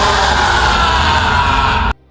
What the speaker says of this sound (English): Amy collapses into his arms, and Marcus can only scream in agony.